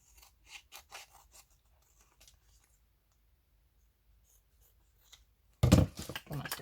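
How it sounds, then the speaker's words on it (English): Scissors cutting paper for a vintage floral journal: a few soft, scattered snips, then a loud, close crunching cut near the end. "But I do need to cut that little bit end off."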